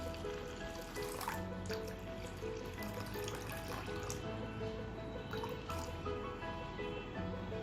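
Water is poured into a bowl of washed lentils, chana dal among them, giving a steady close trickle and splashing with small drips, heard alone at moderate level.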